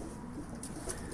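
Pigeons or doves coo softly in a short, low, murmuring burst with a faint chirp, close by and with no talking.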